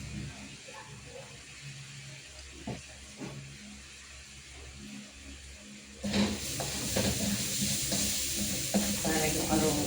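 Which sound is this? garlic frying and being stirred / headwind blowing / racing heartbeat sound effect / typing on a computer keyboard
garlic frying and being stirred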